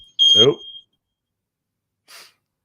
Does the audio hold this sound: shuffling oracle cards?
no